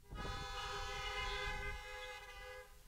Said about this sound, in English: If you're doing all right, let me hear a honk.